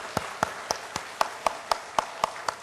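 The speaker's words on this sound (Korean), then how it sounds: "앞으로 잘 부탁한다고 큰 격려의 박수 하겠습니다" A church congregation claps in encouragement for children's ministry teachers, about ten sharp, evenly spaced claps ringing out clearly with no talk over them.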